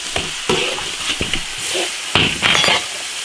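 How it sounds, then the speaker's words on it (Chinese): Soybean paste and chili sauce seasonings stir-fried in an iron wok, sizzling steadily while a spatula scrapes and clinks against the metal in several loud strokes. "黄豆酱辣椒酱， 把所有的调料都给它炒香炒入味"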